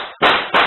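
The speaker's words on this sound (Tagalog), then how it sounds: "umalingaw na ang magkakasunod na putok ng baril" Two sharp gunshot-like bangs caught on a CCTV recording, loud and close, the second following about a third of a second after the first, each with a brief ringing tail.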